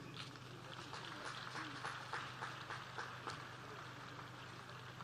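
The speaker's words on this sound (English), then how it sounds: "A round of applause, please." Scattered applause from an audience at an Excellentia professional conference, sounding fairly distant and thin, with uneven claps over a steady low hum in the room.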